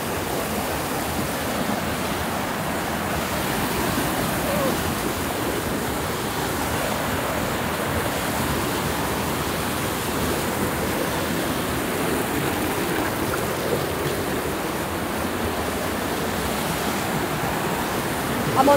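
Rushing water at a waterfall in the rain, a dense continuous roar filling the whole stretch at steady loudness, close and unbroken, with no clear voices.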